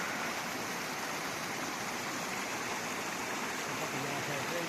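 A waterfall somewhere along Argentina's Ruta 40 in Chubut, Patagonia, makes a steady, broad rushing roar of falling water. It holds an even level throughout, with no voices.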